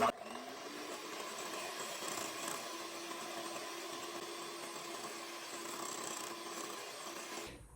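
A hand mixer whips homemade face and body lotion with a steady whirring drone, close and continuous for several seconds before cutting off.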